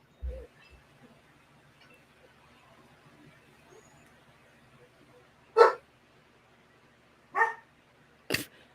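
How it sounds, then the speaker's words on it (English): A dog gives three short, separate barks a couple of seconds apart at moderate volume, after a quiet stretch with faint background sound. "Your dog bark."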